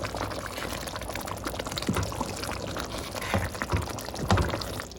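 Homemade biryani masala is poured from a container into a cooking pot, giving a soft continuous rustling pour with a few faint clinks against steady background noise.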